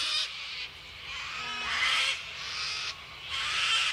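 Harsh, drawn-out bird calls repeat outdoors in long cawing bursts, loud and near, over a low steady background rumble.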